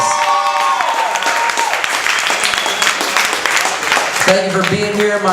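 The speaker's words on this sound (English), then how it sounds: "Give yourself a round of applause." Audience at an open mic comedy night in a hookah lounge claps and cheers, continuous loud applause with a host's voice and music tones over it.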